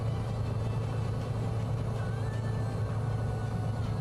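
A small aircraft's piston engine idles on the ground at 1,000 RPM, giving a steady, close, low droning hum that holds even and unbroken throughout with no voices.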